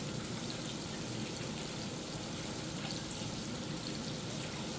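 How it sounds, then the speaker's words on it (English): Hands being washed under a running kitchen tap, a steady close rush and splash of water continuing without a break and with no voices. "We'll give our hands a good wash"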